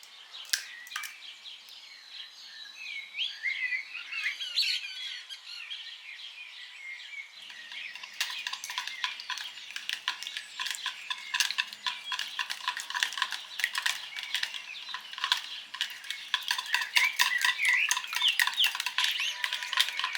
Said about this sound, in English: Crack 2 eggs into a separate bowl and whisk them lightly